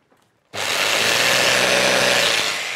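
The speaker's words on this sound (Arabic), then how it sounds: "والشنيور بقى ده هتعمل لنا بيه ايه؟" A power drill starts abruptly after a brief quiet moment and runs with a steady, loud, harsh whine that holds constant to the end, with no talk over it.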